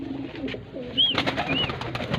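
Pigeon of the Teddy cross breed, soft low coos up close followed by a couple of thin high chirps from other birds nearby.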